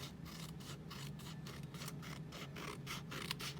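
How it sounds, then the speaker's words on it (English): Scissors trim a paper envelope along its flap while a Christmas card is being made, giving a steady run of soft, rhythmic snipping and rasping strokes, close and quiet, with no voices. "Going back to this envelope, we're now going to trim it."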